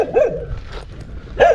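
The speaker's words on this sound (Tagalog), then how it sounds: "Mabait yung pa mga aso eh." Dogs bark at a house building site in Tarlac, with two loud, close barks at the start and end and quieter background noise between them.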